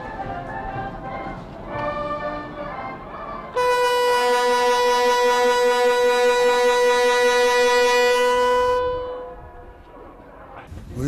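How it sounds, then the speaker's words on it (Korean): Train whistle on an opening run between Koam and Tapchon, one long steady blast lasting about five seconds, loud and clear after a stretch of rumbling and background sound, then trailing off. "열차가 개통의 첫 기적소리를 울리며 고암과 답천 사이를 운행했습니다"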